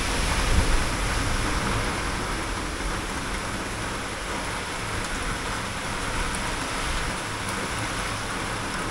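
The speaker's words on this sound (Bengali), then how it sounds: "হঠাৎই ভীষণ এক্সট্রিম হাওয়া দিচ্ছে, আর সেই সঙ্গে প্রচণ্ড জোরে বৃষ্টি হচ্ছে।" A heavy rainstorm with strong, extreme wind roars outside as a continuous broadband wash, loud and unbroken, with a brief gust early on and no voices.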